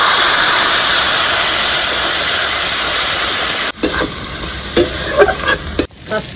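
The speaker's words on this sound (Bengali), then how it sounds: "হলুদ, ধনে, জিরে, একটু লঙ্কার গুঁড়ো, অল্প জল দিয়ে আমি কষিয়ে দিচ্ছি।" Turmeric, coriander, cumin, chili powder and a splash of water sizzle steadily in a pan with ginger-garlic paste, a constant hiss broken near the end by scraping stirs and a brief dip as the spices are worked.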